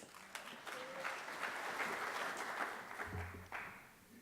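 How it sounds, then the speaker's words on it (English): An audience applauds, a steady wash of clapping that swells and then thins out over a few seconds, with a few louder claps near the end. "You can give her a round of applause if you'd like."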